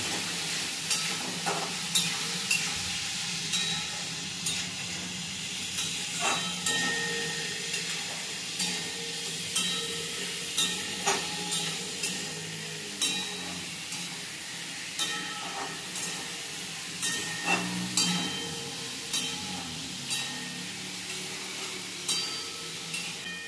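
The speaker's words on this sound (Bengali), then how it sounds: "তো এবার মাংস আর মাছটাকে বন্ধুরা আমি একটু ভালো করে ভেজে নেবো প্রথমে" Meat and fish frying in a pan for chicken fried rice, a steady sizzle and hiss with frequent scraping stir strokes throughout, close and moderately loud with no voices.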